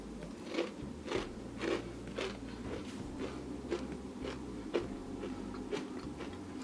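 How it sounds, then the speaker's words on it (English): Close, crisp crunching as roasted cauliflower dipped in barbecue sauce is bitten and chewed, sharp cracks repeating every half second or so over a low background hum. "Let's hear the crunch."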